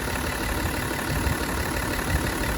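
A BMW X3 M40d with a 3.0-litre diesel engine, 235 kW, idling under an open bonnet, a steady close low rumble with a faint rattle.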